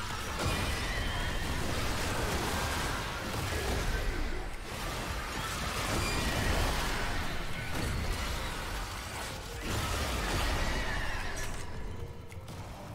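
A horse in the Warframe video game whinnies and neighs repeatedly over about thirteen seconds, loud and close, mixed with hoof clip-clops and swishing combat effects in a dense game soundscape.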